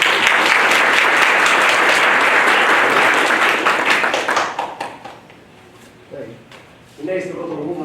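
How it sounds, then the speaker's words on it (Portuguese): Applause for professors at a university council meeting, loud and dense for about four seconds, then fading into scattered claps and quiet room noise before a brief burst of talk. "Acho que cabe novamente uma salva de palmas aos professores,"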